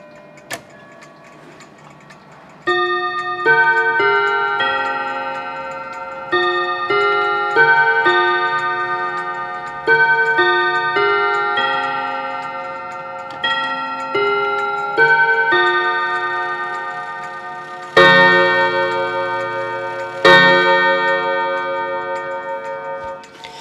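A Jura musical clock mechanism plays a bright, bell-like melody note by note, with soft ticking and a louder chord sounding near the end.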